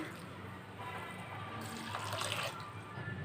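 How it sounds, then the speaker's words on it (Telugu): Water is poured into a pot over cut banana flower pieces, a soft, faint trickling splash that runs continuously for a few seconds. "ఇప్పుడు దీనిలో ఈ ముక్కలు ములిగేంత వరకు కాస్త నీళ్లు పోసుకుందాం."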